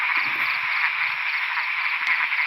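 Frogs croak in a dense, steady chorus during rain at night in the countryside, a continuous rapid pulsing trill filling the air at moderate distance, with a few faint thumps underneath.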